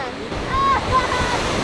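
Rushing waterfall roaring below a 70-meter suspension bridge in the Swiss mountains, a steady broad wash of falling water heard throughout with wind buffeting the microphone and a faint tonal whine over it.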